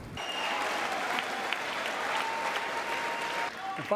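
An ovation in the US Congress for a speech: dense, sustained applause filling the chamber, fading slightly near the end as a voice begins.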